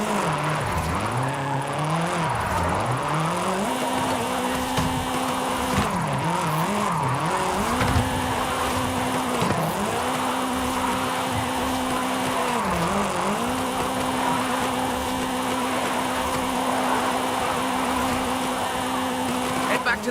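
Virtual car drifting through runs in Forza Horizon 5, Mexico drift club event, engine droning steadily with rising and falling pitch sweeps as tyres squeal continuously, loud and close throughout.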